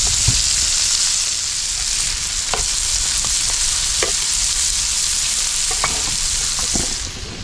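Tiger prawns fry loudly in a pan on a wood-fired stove, a dense continuous sizzle close up, broken by occasional sharp scrapes and taps as the prawns are flipped over, with no talking.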